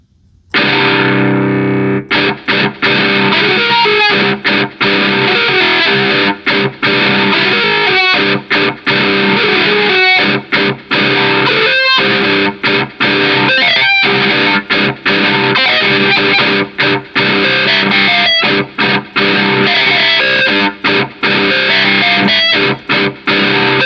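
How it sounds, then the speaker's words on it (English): A Casio CT-S1000V keyboard plays its Cry distortion guitar tone, loud buzzy sustained notes forming a melody, with short breaks between phrases. "Next one is the Cry distortion guitar."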